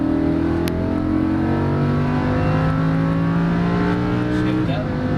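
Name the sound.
Lamborghini Huracan accelerating on race track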